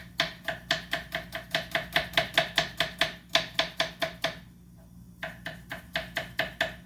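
A knife chops garlic by hand quickly and steadily on a board, a fast run of crisp knocks with one brief pause before the rhythm resumes.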